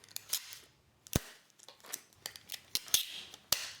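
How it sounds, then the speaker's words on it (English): Tape being pulled and pressed onto foam board, a series of sharp close snaps and rips with quiet gaps between them, fairly loud and with no talking. "we're gonna put some tape on it and tape it on both sides"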